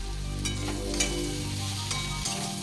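Parathas fry in a home kitchen pan with a continuous oily sizzle, punctuated by a few brief scraping stir sounds and a low background hum.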